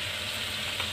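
Cumin seeds and asafoetida fry in hot butter for a dhaba-style vegetarian dish, giving a steady, close, dense sizzle with no talk over it.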